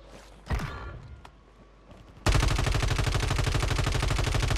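Gunfire on Rebirth Island in Call of Duty Warzone: a couple of isolated shots and thuds, a quiet pause, then a sudden loud sustained burst of rapid automatic fire that continues to the end.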